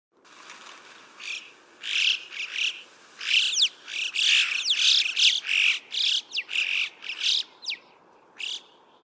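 A yellow-billed chough gives a series of sharp, high, rising whistled calls in uneven bursts, close and clear against quiet background hiss.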